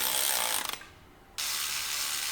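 A KTC electric ratchet whirs in a loud, steady broadband buzz, breaks off into a few quick clicks and a short near-silent gap, then starts up again at full volume and keeps running alone.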